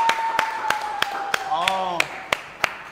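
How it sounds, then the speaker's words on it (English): Sharp, evenly spaced hand claps, about ten in three seconds, keep a steady beat close by while someone talks over them. "So I guess y'all could clap it up."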